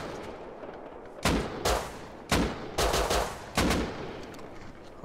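Several pistol shots in the Rust survival game, roughly five sharp loud cracks at uneven intervals over quiet background ambience, with no talking.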